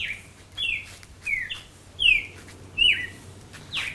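A bird chirps outdoors in a repeated series of short, sharp descending calls, about six spaced notes over a quiet background.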